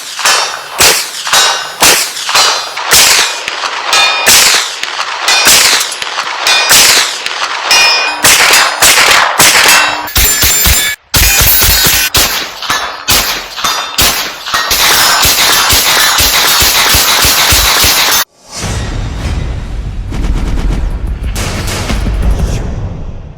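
Ruger PC9 9mm carbines fire strings of sharp, loud shots in quick succession, some with a ringing metallic clang of steel targets, ending in a stretch of duller, rumbling noise.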